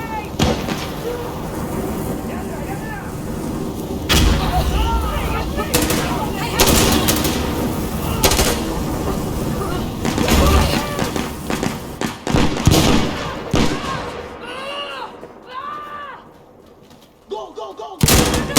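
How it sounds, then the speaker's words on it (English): Combat in Insurgency Sandstorm with a grenade going off amid dense, loud gunfire and sharp blasts, shouted voices breaking through near the end. "Throwing a grenade!"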